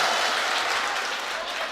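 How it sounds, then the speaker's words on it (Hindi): Loud applause from the audience at a live Urdu/Hindi shayari recital by poet Shabeena Adeeb, a brief dense burst of clapping that fills the moment evenly with no speech over it. "एक बार जोरदार तालियां बजाइए"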